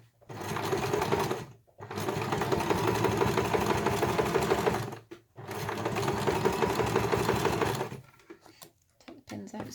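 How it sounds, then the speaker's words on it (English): A sewing machine stitches fabric around a curve in three steady bursts of rapid rhythmic whirring, each several seconds long and separated by brief pauses, close and clear. "So you're sewing around a curve here, so you just take it steady and feed the fabric as you're going."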